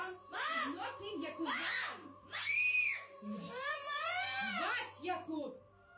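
A voice rises into repeated loud, high screams and wails in a home setting, several sustained cries with short breaks between them, close and harsh.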